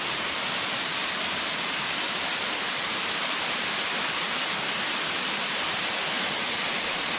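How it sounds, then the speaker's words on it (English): Ganoga Falls at Ricketts Glen, a 94-foot waterfall, roars as a dense, steady rush of falling water close by, loud and unbroken, with no other sounds. "This is Ganoga Falls."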